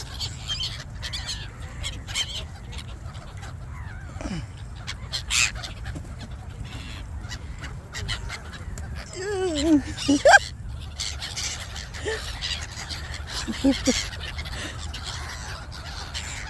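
Birds and geese at play with an elderly man, their clucks, squawks and honks scattered through the stretch over a steady low background, with a livelier flurry of calls partway through and people talking faintly.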